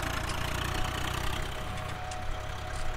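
Swaraj 855 tractor engine in Farming Simulator 19 shifting gears: a steady, moderately loud mid-to-low engine drone that runs continuously, with no speech.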